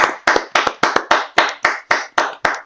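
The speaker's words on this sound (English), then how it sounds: "why are we clapping for Kwadwo Nkansah?" Audience clapping on a Ghanaian entertainment talk show, about a dozen sharp, evenly spaced claps in a steady rhythm, loud and close, with nothing else over them.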